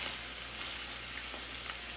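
Steady close sizzle of pork frying in a pan as diced poblano pepper goes in, a dense continuous crackle with no voices.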